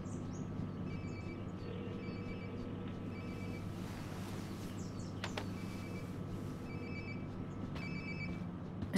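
A cell phone ringing in the video game Life is Strange: Before the Storm, a faint repeating electronic ringtone in short bursts under steady background ambience and a soft low hum.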